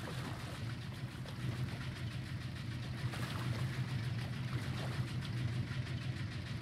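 A washing machine running in the video game Alan Wake 2: a low, steady mechanical hum and rumble, fairly quiet and continuous, with no speech.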